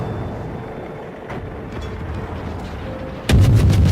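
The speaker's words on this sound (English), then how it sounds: "Guns away on him." Destroyer main guns fire in the naval battle game World of Warships, a sudden loud boom near the end that rolls on over steady engine and sea rumble.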